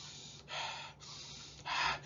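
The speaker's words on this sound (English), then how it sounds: "Respiration is when we get energy from breathing." Two deep, audible inhalations, each about half a second of breathy rushing air, close to the microphone with a quieter pause between them and no talking.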